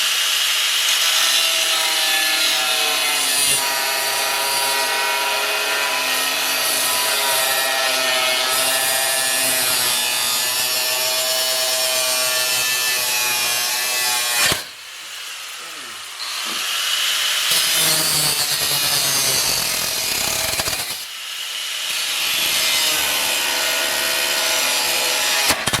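Metal being cut inside a Jeep XJ cabin with a power tool, a loud continuous grinding, sawing rasp running steadily, broken by two brief pauses before resuming.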